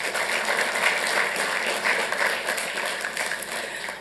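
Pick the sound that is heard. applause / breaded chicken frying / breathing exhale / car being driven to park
applause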